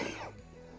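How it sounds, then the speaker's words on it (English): A single chesty cough from someone whose lungs are strained after long disuse, a short harsh burst fading into a low rasping breath, close and fairly quiet. "I'm coughing a bit because I haven't pumped my lungs that much in a long while"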